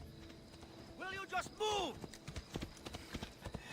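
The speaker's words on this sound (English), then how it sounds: "Some guy's yelling at me because my horse is in the middle of the road." Horse hooves clip-clopping on a road in the video game Assassin's Creed Odyssey, a steady near trotting rhythm running under a voice talking throughout.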